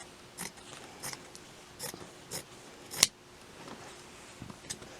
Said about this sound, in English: Go ahead and cut it out using a pair of good fabric scissors.